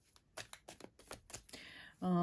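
A few quick riffling bursts of cards being shuffled up close, followed by a sudden louder tonal sound at the end.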